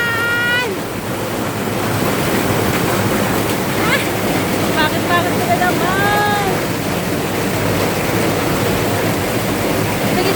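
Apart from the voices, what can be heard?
heavy rain falling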